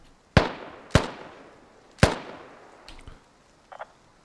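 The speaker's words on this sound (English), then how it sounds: "Quick Scratch is shooting him." Gunshots ring out in the military shooter game Squad: three sharp, loud reports spaced apart, each with a short echoing decay, followed by fainter distant pops and a brief quieter burst.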